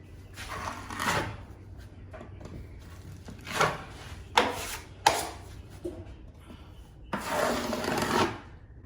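Plaster being spread thinly over a wall repair, a series of short scraping strokes that rise and fade in irregular bursts, close and fairly quiet, with quiet gaps between passes.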